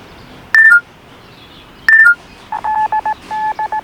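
Sharp electronic tone bursts sent from a smartphone with a built-in UHF walkie-talkie to open a repeater about 25 km away, two paired beeps followed by a quick series of evenly spaced tones, loud and close.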